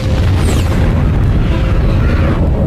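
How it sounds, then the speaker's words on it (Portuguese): A supernova explosion rendered as a cinematic sound effect: a loud, sustained low rumbling boom that fills the whole moment without letting up, with no voices. "A explosão de uma supernova é incrivelmente poderosa."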